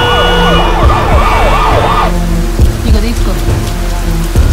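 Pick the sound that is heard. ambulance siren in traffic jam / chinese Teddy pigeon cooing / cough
ambulance siren in traffic jam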